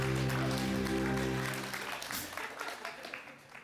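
Studio audience applause follows a joke on a Turkish talk show: a broad wash of clapping starts over a sustained low tone, then thins and fades over a few seconds.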